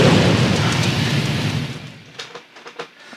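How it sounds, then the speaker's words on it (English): A booming explosion effect opens a Napalm Records metal song, a loud broad roar that fades over about two seconds, followed by faint scattered crackles. "everybody get ready to hear an explosion for no reason"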